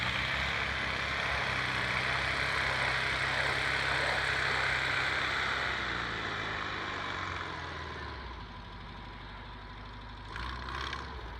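A Volkswagen split window bus engine drones steadily as the van climbs a frozen ramp, holding a loud, constant hum that eases slightly toward the end.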